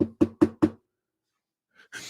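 Four sharp, evenly spaced knocks on a door, loud and close, followed by silence and then faint rustling.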